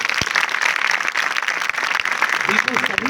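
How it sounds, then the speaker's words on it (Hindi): An audience at a school farewell ceremony at an intercollege claps loudly, dense continuous applause throughout, with a voice briefly speaking near the end. "एक जोरदार तालियां हो जाए।"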